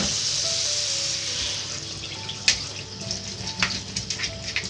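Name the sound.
cold tap water running over potatoes in a strainer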